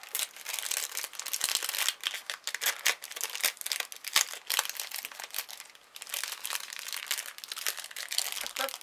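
Decorative paper wrapping crinkles and rustles continuously as an item is unwrapped up close, with rapid crackling bursts and brief pauses.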